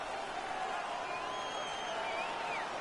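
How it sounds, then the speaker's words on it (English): Simulated home crowd in an NHL ice hockey video game roaring and cheering steadily after a win, a dense continuous wash of voices with a few whistling tones rising above it. "The home crowd is ecstatic."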